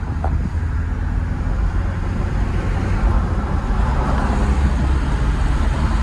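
A $500 Toyota Tacoma pickup truck driving on the road, with a steady low engine and road rumble continuing throughout, close and fairly loud, with no voices.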